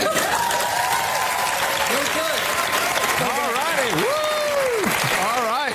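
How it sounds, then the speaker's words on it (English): Loud, continuous clapping from a crowd after eating chocolate, with voices talking and rising over the applause throughout. "We had chocolate and we applauded loudly."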